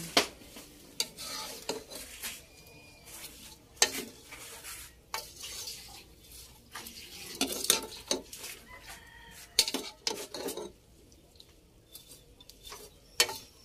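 Shrimp in coconut milk are stirred in a pot with intermittent scraping and clinking strokes over a faint simmer, while chickens cluck and a rooster crows in the background outdoors.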